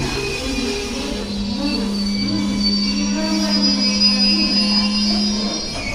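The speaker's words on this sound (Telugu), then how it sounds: "ట్రైన్ వరంగల్ చేరుకుంది." A sleeper-class passenger train pulls into Warangal platform 1 with its wheels letting out a sustained high metallic squeal over a steady rumble of rolling carriages, loud and close from start to finish.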